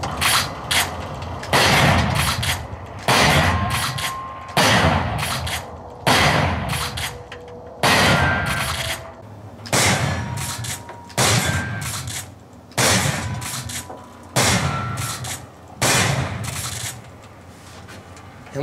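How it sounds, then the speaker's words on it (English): Shotgun blasts played back through a Polk Audio HitMaster speaker, a series of loud sharp booms in an irregular rhythm, roughly a dozen, each with a short decaying tail. "now I'm going to fire some shotguns and let you guys"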